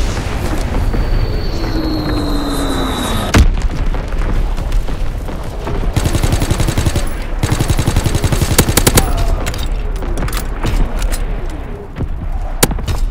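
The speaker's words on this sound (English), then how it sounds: "Firing primary battery." An artillery battery firing in Call of Duty WWII, loud continuous rattling volleys and booms rolling over a dense battlefield din, with a descending whistle early on and no audible talk.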